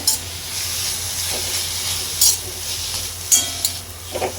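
Sliced onion and green chilies sizzle in a hot pan while being stirred, a steady close frying hiss with occasional scraping strokes of a spatula and no talking.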